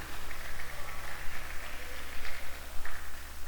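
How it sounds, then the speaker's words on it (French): Audience applause at the opening of a hip hop festival, a steady wash of many hands clapping with crowd noise, moderately loud and continuous. "On applaudit encore une fois pour vous."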